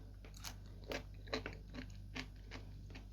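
Someone biting into and chewing home-pickled cucumbers, giving close, crisp crunches that come in separate bursts roughly every half second over a quiet background hum.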